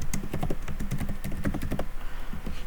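Loud typing on a computer keyboard, close and clattering, with rapid irregular bursts of key taps and a brief slower patch near the end, no voices.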